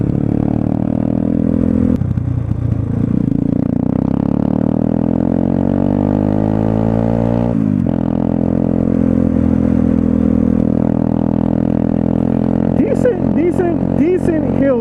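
A 125cc street motorcycle climbs a hill at just over quarter throttle, its engine droning steadily and rising in pitch through the gears with wind buffeting, and a rider's voice comes in near the end.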